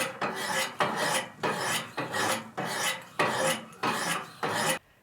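A knife is drawn in seven even, alternating strokes across 600 grit diamond stones on a Wicked Edge GO precision sharpener, each one a crisp, close rasping scrape followed by a short pause.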